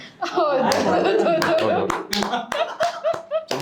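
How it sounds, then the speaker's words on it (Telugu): Several people clap their hands during a movie team interview, a run of quick claps mixed with talking and laughter, close and fairly loud. "క్లాప్స్ కొట్టాలా?"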